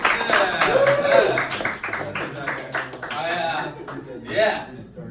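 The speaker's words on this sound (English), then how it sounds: "Please give a big round of applause for Chris Roberts, everybody" An audience at a stand-up comedy competition applauds a comedian taking the stage, a scattered wash of clapping under a loud, shouting announcer voice and stray calls from the crowd.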